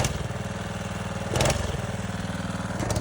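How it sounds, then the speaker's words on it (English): The small engine of a homemade prototype runs with a rough, pulsing idle, then revs up briefly twice at random before dropping back, loud and close with no talking. "She's just kind of randomly revving, but still works normal"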